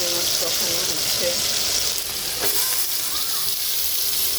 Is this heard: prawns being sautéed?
yes